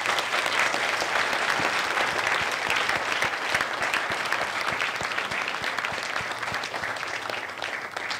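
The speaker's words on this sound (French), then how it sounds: "On va vous remercier, on va vous applaudir." A conference audience applauds steadily for about eight seconds, a dense, even wash of clapping with no voices over it.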